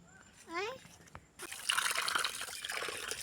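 Tap water runs steadily as feet are washed at an outdoor tap in a dishwashing area, starting abruptly after a stretch of voices and continuing as a loud broadband rush.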